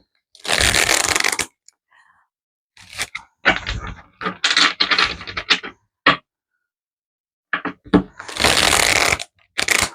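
Tarot cards shuffled close up in several brisk, papery bursts, with short pauses between them and a longer riffle at the end.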